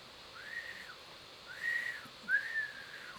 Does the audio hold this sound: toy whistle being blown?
yes